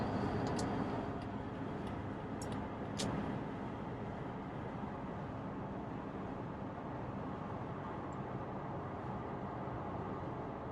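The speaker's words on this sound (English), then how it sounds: "So we're doing 90 in 4th gear, and so far no vibrations." Inside a Jeep Wrangler TJ cruising at 90 in 4th gear, a steady low road and engine drone fills the cabin evenly, with a few faint ticks early on and no talking.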